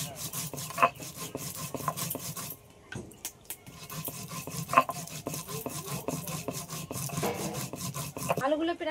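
Fried spices are ground into a paste on a stone, giving a steady, close scraping and rubbing with repeated back-and-forth strokes and a brief pause midway.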